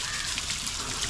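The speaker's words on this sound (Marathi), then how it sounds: "त्याच्यातून ते पाणी खाली येते." Fresh water flowing down from a pipe fitted with a small bottle at the top, beside a lake: a steady, bright rushing splash, continuous and close.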